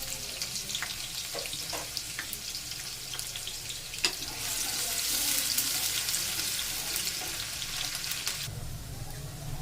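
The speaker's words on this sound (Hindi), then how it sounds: "अब मैं इसमें थोड़ा सा प्याज डालूंगी। प्याज को हल्का सा ब्राउन करेंगे हम।" Onion frying in hot mustard oil, a steady close hiss and crackle that swells louder for a few seconds, with occasional light clicks of a utensil and no speech.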